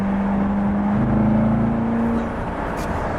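C7 Corvette Grand Sport convertible with a manual gearbox, a 2018 model, accelerating with the driver on the gas: a steady engine drone with a tone that rises and swells for about a second before easing off.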